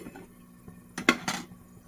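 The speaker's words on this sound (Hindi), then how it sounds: "उसके बाद हम ढक्कन देंगे" A lid goes onto a cooking pot of Sindhi-style tofu curry after hot water is added, giving a few quick metallic clanks and clinks at close range with no talk.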